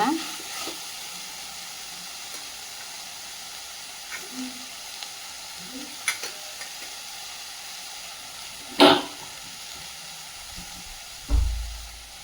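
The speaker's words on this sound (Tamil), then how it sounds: "நல்லா பச்சை வாசனை போகிற அளவுக்கு நல்லா வதக்கிக்கோங்க." Onions sizzle gently while being sautéed in a pan for a dried anchovy fry, a steady low frying hiss broken by a few stirring scrapes and clinks.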